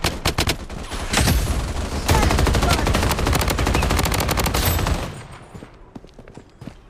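Automatic gunfire rattles in the shooter video game Blood Strike: loud, rapid bursts of shots fired in quick succession for several seconds, then fading to quieter, scattered sounds.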